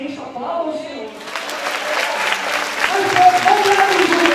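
In a church, a brief voice is heard, then the congregation breaks into lively clapping that builds and stays loud and sustained to the end.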